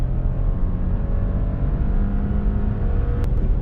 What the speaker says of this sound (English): And listen to the upshift. Boom.